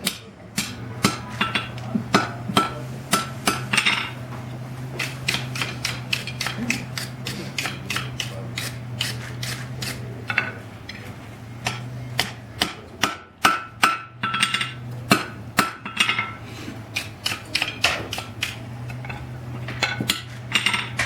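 Steady hammer blows ring on hot metal as forged blacksmith tongs are straightened, sharp metallic strikes repeating in quick regular rhythm with brief pauses, close and loud with no talk.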